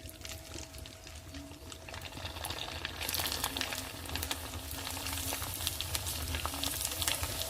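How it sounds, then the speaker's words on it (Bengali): Papad frying in hot oil in a kadai, a steady crackling sizzle that grows busier and louder partway through, with fine bubbling spatter throughout. "তেলটা গরম হয়ে গেছে এবার আমি পাঁপড় ছেড়ে দেব"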